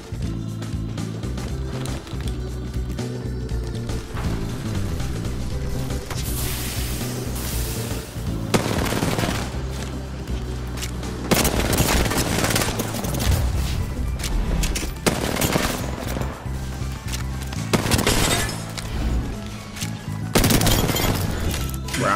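Loud hip-fire gunshots in the video game Apex Legends come in rapid bursts and sustained volleys, with booming impacts layered over a steady game soundtrack.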